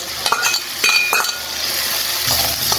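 Fried rohu fish goes into spiced masala in a pan for a radish-greens pithali, with bright metallic clinks and a few scrapes over a close, steady sizzle and no speech.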